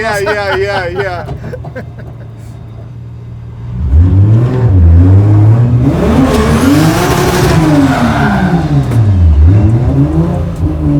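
A 700 hp 2JZ-powered Chevy Monte Carlo drift car starts with a quieter engine note, then accelerates hard with loud, rising and falling revs and tire noise, heard from inside the car while people talk over it.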